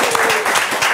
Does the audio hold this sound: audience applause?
yes